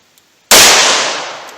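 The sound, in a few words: gunshots from .38 Special +P revolver, Underwood Xtreme Defender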